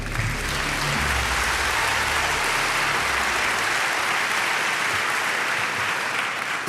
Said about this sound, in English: Big applause for the three of you.